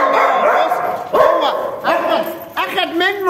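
A dog barks and yips several times close by, in short bursts with whimpering between them.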